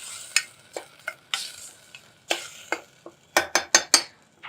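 Soaked biryani rice being stirred in a cooking pot, a series of sharp scraping strokes of a utensil against the pot in an irregular rhythm, closer together near the end, over a quiet simmer.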